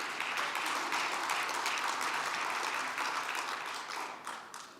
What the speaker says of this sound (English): I think we can do better with a round of applause